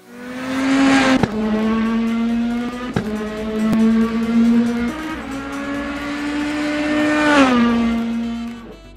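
Rally car engine in the WRC 10 racing game pulls away with a loud, steady exhaust drone, pitch climbing and dipping through gear changes, with sharp shift cracks near 1, 3 and 7 seconds and no talk.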